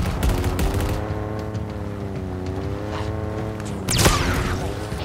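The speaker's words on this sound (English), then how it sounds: "This is a really big gun." A big gun firing in Halo Infinite's campaign: a steady, loud rattle of rapid shots over a droning engine-like hum, with a sharper burst near the end.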